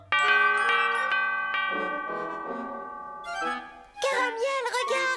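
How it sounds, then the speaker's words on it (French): In a French animated Christmas cartoon, a large bell meant for an elephant rings with bright, sustained metallic tones, struck several times in succession, then a louder, shimmering final peal, close and alone with no talking. "Une cloche pour éléphant."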